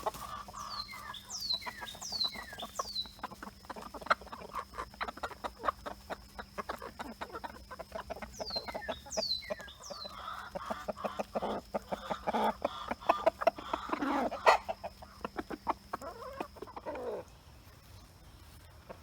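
Backyard chickens in a June coop clucking and cooing near the compost pile, a steady run of soft repeated clucks with a few higher calls, moderately close, no talking.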